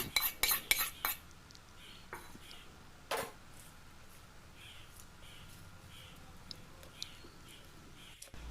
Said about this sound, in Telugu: ఇప్పుడు ఇందులో వేసుకొని మొత్తం కలుపుకోవాలండి స్పూన్తోన